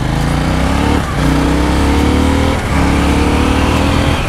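A KTM Duke 790 motorcycle engine revs loud and close, rising in pitch twice with short gear-change dips between pulls.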